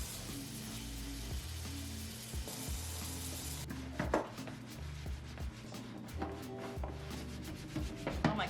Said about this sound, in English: All right, let's wash some dishes.